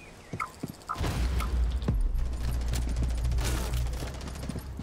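Gunfire in Rainbow Six Siege: a few sharp single shots near the start, then a continuous rumbling stretch of sustained shooting at moderate loudness, with little talk.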